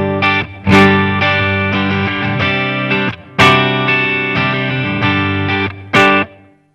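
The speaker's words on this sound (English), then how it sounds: "This is just on the clean sound. Actually, firstly without the reverb." Clean electric guitar chords through a Marshall JVM 210 amp with no reverb ring out dry and bright, struck several times with sharp attacks and sustained tones, loud and close, no talking.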